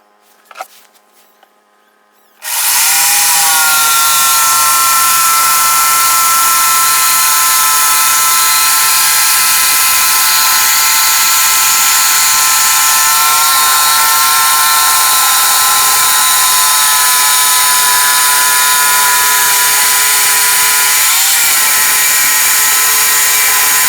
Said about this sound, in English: that should give me a good enough outline that I can have at this with the jigsaw